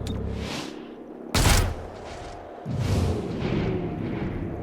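Gunfire in XCOM: Chimera Squad bursts out as a sharp, loud blast, then a second rumbling volley follows over a low game soundtrack.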